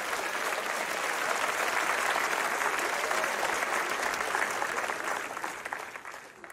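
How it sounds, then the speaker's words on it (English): A church congregation gives a sustained round of hand-clap applause, dense and steady for several seconds before tapering off toward the end. "give God a good hand clap offering"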